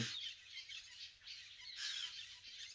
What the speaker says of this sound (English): Those bird songs are beautiful.